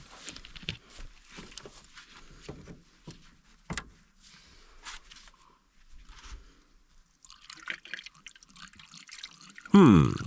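Puddle water trickles and drips into the empty cooling system of an abandoned Toy Story Buzz Lightyear toy car in a video game, quiet and intermittent, ending with a louder splash.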